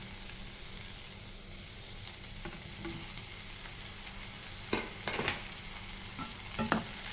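Onion, garlic and tomato sautéing in a pan for garlic chutney, a steady close sizzle broken by a few spatula stirs and scrapes toward the end, with no talking.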